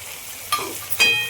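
Potatoes, peas and tomatoes sauté in a pan for a spiced rice dish, with two short stirring scrapes over a soft, steady sizzle, close and fairly quiet.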